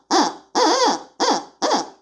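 A hand-blown owl locator call imitates an owl's hoot, giving four hooting calls in about two seconds, each with a sharp start and a slow fade, heard close and alone.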